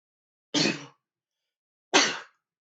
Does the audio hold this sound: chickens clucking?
no